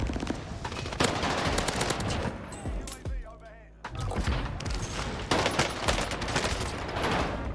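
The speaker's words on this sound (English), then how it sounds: "I hear gunshots and a third party straight away" Rapid bursts of gunfire in the video game Warzone crackle repeatedly, with one brief lull in the middle before the shooting resumes.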